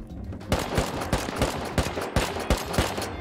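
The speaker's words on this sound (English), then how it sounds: "Is that an AK?" AK rifle fire in a video game, a rapid string of sharp cracks at an even rhythm over a noisy background, fairly quiet and heard without talk.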